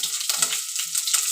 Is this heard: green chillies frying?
yes